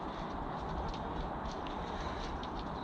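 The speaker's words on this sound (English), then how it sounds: "oh, train, that scared them" A train passes near an allotment, a steady, moderately distant rumble and rattle of rolling wagons that carries on throughout without any speech.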